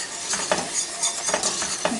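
A spoon scrapes and stirs flour into melted butter for a golden roux, making soft rhythmic strokes over a faint sizzle, close and fairly quiet.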